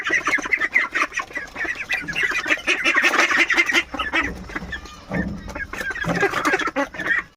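Ducks in hot weather drink water and call loudly and continuously, with overlapping nasal quacks and honks from a close flock.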